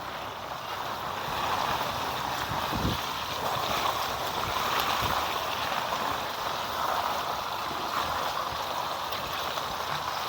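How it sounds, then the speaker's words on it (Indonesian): Water pours and splashes onto potted flowering and fruiting plants as they are watered after a powdered calcium fertilizer is applied. The sound is a steady, soft hiss of flowing water with no talking. "Oke, langsung disiram ya teman-teman ya"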